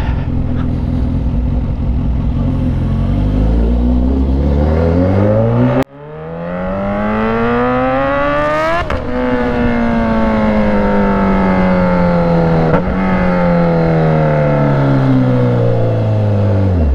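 A Raider 150 motorcycle fitted with a BMAX Racing exhaust revs hard nearby, climbing in pitch, cutting off sharply, then winding up again and holding a loud throaty roar before easing slightly.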